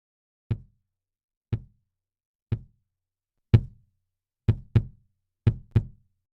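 Eight isolated kick drum hits through a Superlux microphone, dry and punchy, first spaced evenly then in quicker pairs, with silence between each thump.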